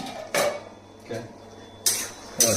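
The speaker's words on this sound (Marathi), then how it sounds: "आता आपल्याला झाकण काढून बघायचं आहे झाली आहे की नाही।" A metal pot lid being lifted off a pan of Maggi noodles, a few clanking and scraping metallic knocks with short bright rings, spaced unevenly and fairly close.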